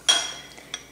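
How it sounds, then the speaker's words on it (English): Utensil scraping and clinking against a bowl: one sharp metallic clink followed by a short ringing scrape, then a softer second tap near the end, close and fairly quiet. "go ahead and scrape it out"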